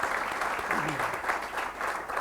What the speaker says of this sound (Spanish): Un fuerte aplauso le pedimos a Carmen de Rosa.